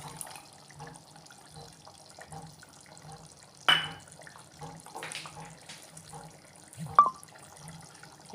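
Ground coconut and cumin paste is poured into a simmering fish curry, giving faint wet splashes and trickles, with two sharper plops standing out against a quiet kitchen background.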